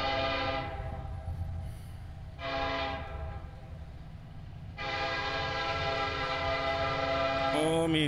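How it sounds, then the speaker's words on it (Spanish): Locomotive 4001 sounds a loud, sustained train horn in three long blasts separated by short gaps, the rumble of the moving train running underneath throughout. "escuchen ese silbatote"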